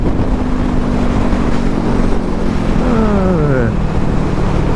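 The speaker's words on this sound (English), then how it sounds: "you hear it's such a small engine" A 2018 Kawasaki Ninja 400 small-displacement engine running at highway speed, loud and steady under heavy wind noise, with a brief falling then rising pitch sweep near the end.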